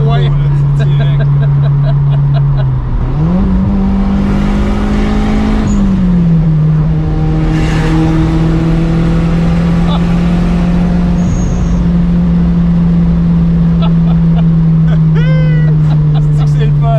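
Turbocharged 1988 Toyota Celica All-Trac engine, near and loud, revving up as it accelerates, its drone rising and then holding steady, with speech heard alongside.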